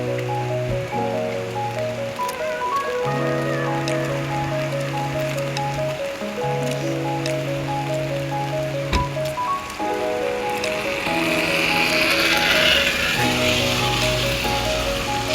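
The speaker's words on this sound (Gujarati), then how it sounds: "2 દિવસ એક જ ધારો વરસાદ પડી રહ્યો છે બજુર્ગમાં" Heavy, continuous rain pours on a flooded village road in Gujarat, a dense steady hiss that holds under sustained musical tones and swells louder toward the end.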